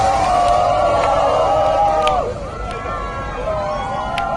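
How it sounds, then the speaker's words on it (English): A crowd in Taiwan cheers and whoops, with shrill voices rising and falling over a dense babble of chatter, close and lively, dipping briefly before swelling again. "incredible footage showing people cheering"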